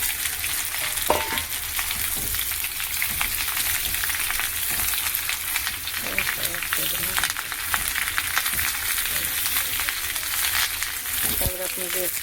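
Mixed vegetables (carrot, potato, pointed gourd, eggplant and cauliflower) fry in a pan with a steady, continuous sizzle, and a few brief stirring scrapes come through on top of it.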